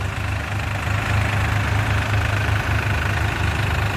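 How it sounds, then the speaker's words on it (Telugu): Two 4WD tractors, a Powertrac Euro 45 Plus and a New Holland Excel 4710, run in first gear under load at about 1000 RPM, their diesel engines making a loud, steady low rumble that continues without letup. "ఇప్పుడు ఈ రెండు ట్రాక్టర్లు వచ్చేసి లోడ్ గేర్ ఫస్ట్ గేర్లలో రాబోతున్నాయి"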